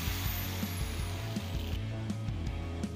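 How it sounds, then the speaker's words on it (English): An angle grinder with a fresh cutoff wheel cuts a small notch into a tungsten grinding rest, holding a steady humming motor drone with a faint repeating tick, constant and moderately close. "Now we've got to get a fresh cutoff wheel on another grinder, and we're going to cut a small notch right where we marked it"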